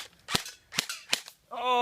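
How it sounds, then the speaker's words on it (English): Three sharp cracks from an AK-47-style airsoft machine gun ring out at close range, spaced roughly every third of a second, in a woodland camp. A brief tonal whine follows them. "I actually brought my AK-47 Airsoft machine gun. Fires 700 rounds per minute."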